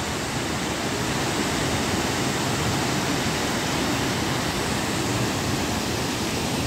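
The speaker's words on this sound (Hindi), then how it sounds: "हुडू फॉल्स है" White water pours over Hudru Falls near Ranchi, Jharkhand, as a steady, dense roar with no pauses, loud and close throughout.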